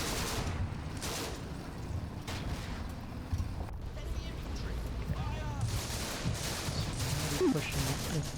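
Infantry rifle and machine-gun fire in Combat Mission: Afrika Korps, a battle near a clump of trees under artillery, with distant crackling shots and muffled booms under a steady battlefield rumble while someone talks over it.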